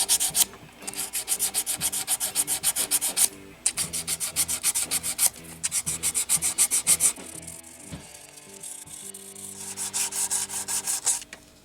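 Rhythmic dry rubbing strokes of fine 600-grit sandpaper on a wooden guitar neck, steady back-and-forth bursts with a couple of brief pauses, close and fairly loud.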